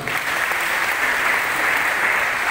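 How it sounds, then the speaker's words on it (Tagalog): Audience at an event hall claps steadily throughout, a dense and even wash of applause with no voices rising above it. "Palakpak naman kayo dyan."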